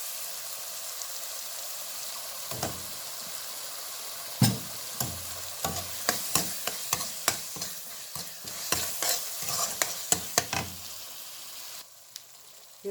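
A spoon stirs a chole mixture with tomato sauce in a sizzling pan, a soft background fry broken by a run of sharp, irregular scrapes and clinks against the pan that stop near the end.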